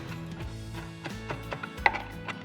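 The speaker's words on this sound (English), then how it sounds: "I've just realised this isn't a very good knife for chopping with" A flat-bladed kitchen knife chops fresh herbs for tabbouleh on a board, giving a scattered run of soft, close knocks with one sharper tap near the end, heard alone without talk.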